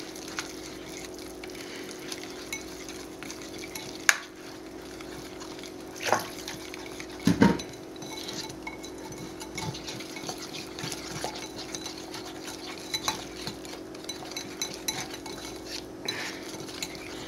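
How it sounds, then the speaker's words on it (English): A spoon stirs chocolate brownie batter mix with water in a skillet or bowl, giving soft scraping and sparse clinks against the dish. A few sharper knocks stand out over an otherwise quiet, humming background. "Okay, so now we can mix this all up."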